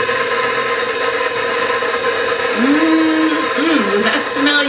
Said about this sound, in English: we're going to mix all of this lusciousness together